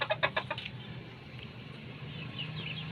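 A chicken gives several quick, close clucks at the start. Then quieter clucking and rustling follow in the background.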